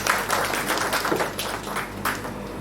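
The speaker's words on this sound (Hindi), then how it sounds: "उनके लिए ताली।" Audience applause for an honoree at a book launch ceremony, a brief steady burst of many hands clapping close by, filling the space without talk.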